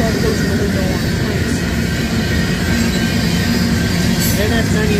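A Union Pacific manifest freight train with a Norfolk Southern locomotive rolls past at close range on Massingale Road, giving a loud, continuous roar of wheels and rumbling cars. A faint squeal is mixed in, and voices speak over it.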